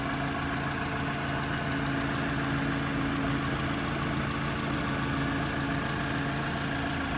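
A 2015 Mazda 6 Touring's 2.5-liter naturally aspirated four-cylinder idles steadily and smoothly with the hood open, a constant even hum with no variation and no talk.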